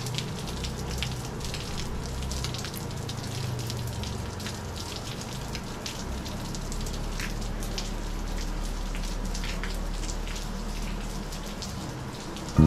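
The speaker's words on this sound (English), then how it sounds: "I really love pattering sound of rain on the roof." Steady rain patters on a roof at a hill resort in Binsar, a soft continuous hiss of drops with occasional sharper taps and no voices.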